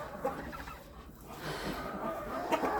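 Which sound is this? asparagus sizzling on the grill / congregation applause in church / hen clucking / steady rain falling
hen clucking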